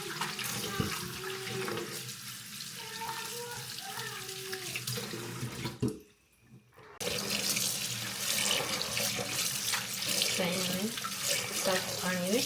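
Mustard leaves are rinsed under a running kitchen tap, with a steady close rush of water and splashing that briefly drops out, then returns at full force. A voice talks faintly underneath.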